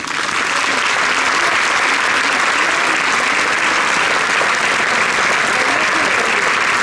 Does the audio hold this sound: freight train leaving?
no